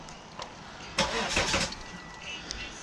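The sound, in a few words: Volvo XC70 D5 diesel engine cranking and starting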